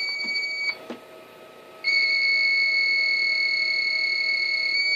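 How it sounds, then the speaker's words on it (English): An APC Back-UPS 500 battery backup beeps in short pulses, then settles into a steady, continuous high-pitched tone that holds for several seconds. "we may get an unusual beep pattern from the APC 500"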